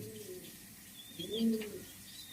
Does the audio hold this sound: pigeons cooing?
yes